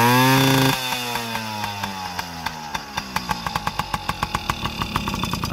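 A Yamaha PW50 two-stroke dirt bike engine revs high, then drops to a lumpy idle with rapid, evenly spaced popping pulses. The engine is close and steady, and no one talks during carburetor tuning.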